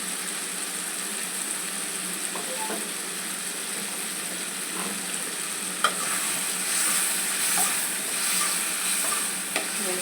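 Chopped potato pieces with a pinch of turmeric fry in a pan, giving a steady, hissing sizzle throughout, with occasional scraping and clinking as a spoon stirs them nearby.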